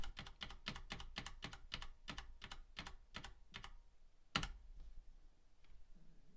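Keys tapped on a MEGA65 computer keyboard: about a dozen crisp, evenly spaced clicks in a steady run, then a single sharper tap after a short pause, close and clear with no voices.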